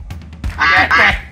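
A voice imitating a duck, two loud, close, nasal quacks in quick succession after a brief soft syllable.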